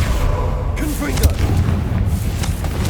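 A Confringo fire spell bursts in the Hogwarts Legacy castle, a booming blast with rumbling low thuds and crackle, loud and close, while a voice speaks over it.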